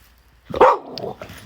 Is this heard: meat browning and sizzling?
no